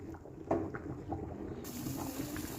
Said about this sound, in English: add half cup of water.